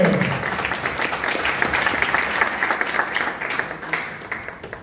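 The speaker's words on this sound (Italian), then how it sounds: "Un applauso a Raffaele." An audience at a talk applauds the speaker. Brisk, close clapping starts strongly and then continues steadily before gradually thinning out.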